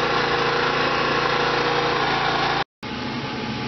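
A Champion 5000W generator converted to run on natural gas through a Nash Fuels venturi, powering two heaters, drones at a steady even idle with a brief cutout near the end before resuming.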